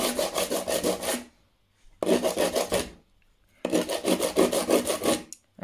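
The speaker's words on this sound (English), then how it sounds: "So I've sanded all my angels." Sandpaper rubs over small scrap-wood craft angels in three rasping bursts of roughly a second each, close and steady, with quiet pauses between them.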